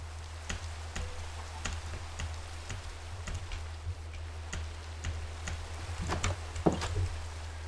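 Steady rain in a Minecraft survival world on hard mode, a soft constant hiss with scattered sharp ticks and knocks over a low droning hum. No one speaks.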